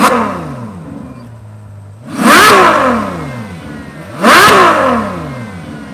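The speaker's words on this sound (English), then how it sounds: "Okay, I'll rev it one more time, and then we'll hit the road." Ferrari 812 Superfast V12 engine, redlining near 9,000 RPM, idling then blipped in two sharp, loud revs that rise and fall quickly, with the idle burble between them.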